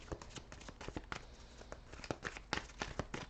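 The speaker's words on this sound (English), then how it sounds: "I will start shuffling." A deck of tarot cards is shuffled close by, giving a quiet, rapid run of crisp flicks and soft slaps in an irregular patter, with no other sound around it.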